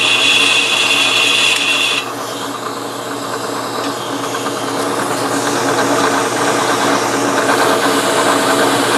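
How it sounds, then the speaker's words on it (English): Sandpaper working the turned diameter of a homemade hand-engraving machine hand-piece on a running machine, a steady loud whirring hiss with a high tone that drops away after two seconds, continuing alone without talk. "you can get close and you can get in there with some sandpaper"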